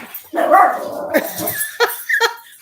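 A livestock guardian dog chasing a cat gives a loud, harsh bark followed by a few sharper yips and whimpering cries, close by and not overlapped by talk.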